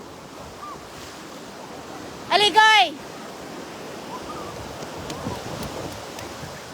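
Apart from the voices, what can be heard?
waves washing up on Boracay beach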